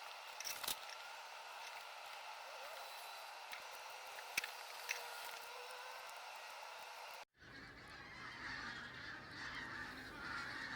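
A flock of geese flying overhead in cold weather, honking faintly from a distance, with scattered calls over quiet outdoor ambience and a change in background noise partway through.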